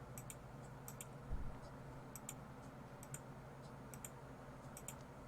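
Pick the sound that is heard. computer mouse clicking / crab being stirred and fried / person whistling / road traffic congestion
computer mouse clicking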